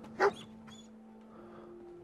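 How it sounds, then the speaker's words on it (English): A single short bark or yip from a dog in the video game Fallout 4, heard once near the start against a quiet game-ambience hum. "Dog!"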